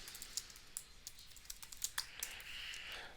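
Someone types on a computer keyboard, a quick irregular run of soft, close key clicks over a quiet background with no speech.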